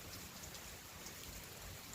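Light rain falls steadily in an open outdoor setting, a soft continuous wash of patter with faint low rumbling beneath and no voices.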